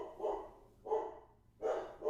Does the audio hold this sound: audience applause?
no